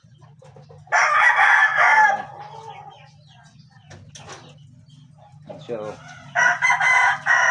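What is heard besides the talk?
rooster crowing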